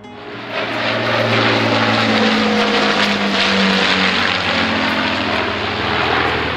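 A World War II Avro Lancaster III four-engine bomber of the Royal Air Force drones loudly and steadily with propeller engines, rising within the first second and then holding a dense roar with no voices.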